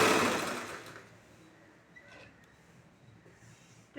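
A sewing machine stitches a blouse sleeve into the armhole, a loud burst of whirring in the first second that dies down to faint, steady mechanical hum with small clicks, and no one talking.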